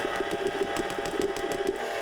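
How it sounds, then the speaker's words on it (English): An electric stand mixer churns pumpkin cheddar muffin batter with a steady motor whir and a rhythmic, fast-ticking beater clatter, close and continuous. "I'm going to stop the mixer"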